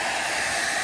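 A steady, airy blowing hiss from a hair dryer's small motor on its cool setting, even and constant throughout with no voices.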